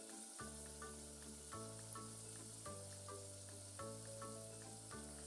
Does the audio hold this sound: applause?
no